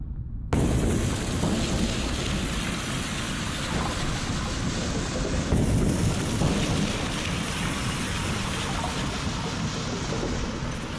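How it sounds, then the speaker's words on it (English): Reconstructed blast of the 535 AD Krakatoa volcanic eruption: after a moment of silence, a loud, dense roar like thunder and heavy rain sets in and rumbles on without a break, with a further surge about halfway through. "we have reconstructed the Krakatoa 535 AD Big Bang"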